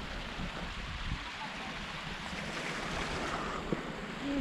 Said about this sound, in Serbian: Znači stalno imate ove potoke,